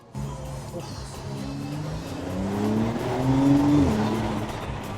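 A Porsche 911 Carrera 4S pulls away and accelerates through town streets, its engine note climbing steadily and growing louder over several seconds as heard from inside the car.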